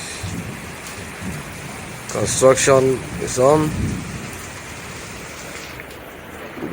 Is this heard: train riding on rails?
no